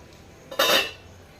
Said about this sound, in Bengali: এবার ঢাকনাটা খুলবো মিনিট পাঁচেক পর